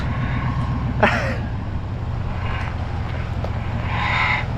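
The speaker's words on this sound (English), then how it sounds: "Oh, power steering pump sounds terrible." A failing power steering pump on an old plow truck drones under a low engine rumble, with a short squealing whine and scattered faint clunks.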